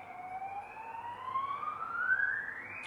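A police siren wails with a steady rising pitch sweep, moderately distant and heard alone with no talk over it.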